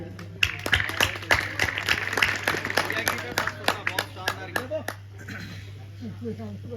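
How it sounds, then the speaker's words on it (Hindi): Audience members at an all-India poetry recital in Sumawali, Morena district, clap in a quick rhythmic run of sharp claps that thins out and stops, and a voice is heard near the end. "गीत से पहले एक बार आप सब तालियां बजा दें।"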